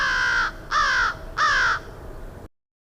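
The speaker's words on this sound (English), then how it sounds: "they make a loud, clear cawing sound" A crow gives three loud, clear caws in an even rhythm, each about half a second long and close by, with no other voices, then falls silent.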